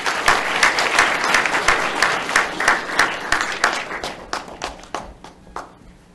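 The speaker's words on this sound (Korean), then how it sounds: "우리 문장수 회장님을 큰 박수로 모시겠습니다" An audience at a special invited lecture in Ilsan plaza breaks into sustained applause to welcome the association chairman to the stage, dense clapping that holds steady for several seconds, then thins into scattered claps.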